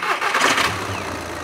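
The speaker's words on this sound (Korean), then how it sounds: "자, 이제 시동을 한번 걸어볼게요" A diesel car engine cranks and starts, a rough burst of noise settling into a steady, rumbling idle close by.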